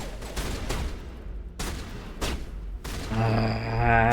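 Mass Effect video game gunfire comes in several short, sharp bursts spaced across the moment, then gives way to a rising, humming electronic tone.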